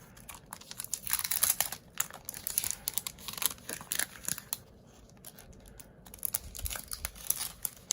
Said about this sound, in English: Let me open it up and measure it for you.